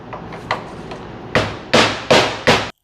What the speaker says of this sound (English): I'm just gonna hit it with my mallet, ensuring that I'm not making any damage to the threads.